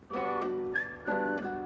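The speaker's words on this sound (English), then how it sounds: "with a touch of nostalgia as a result of that beautiful whistle melody" A whistled melody in an old-school boom-bap hip-hop track, clear and close with two sustained, gliding notes and no vocals over it.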